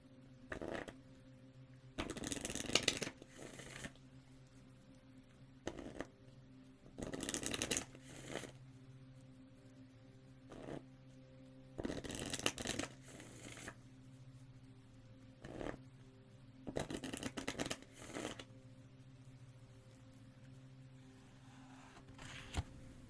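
Moon Oracle cards being shuffled and drawn up close in a quiet room, with repeated soft riffling bursts of card stock separated by brief pauses over a faint steady background hum.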